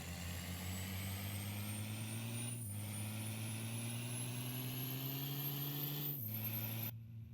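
A heavy truck engine in American Truck Simulator drones steadily at a low pitch, rising gradually as it accelerates, with two brief dips where the revs drop between gears, before cutting off abruptly at the end.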